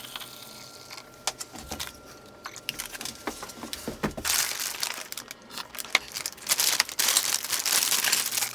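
Packaging removed from an Anycubic 4Max Pro enclosed 3D printer: plastic and foam crinkling, crumpling and rustling with scattered knocks, close and growing busier toward the end, no talking.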